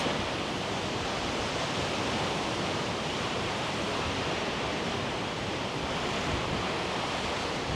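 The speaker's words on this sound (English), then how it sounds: "I would say I made it all the way to the waterfall" Rushing water from a waterfall pours in a dense, steady broadband roar, loud and constant throughout with no breaks.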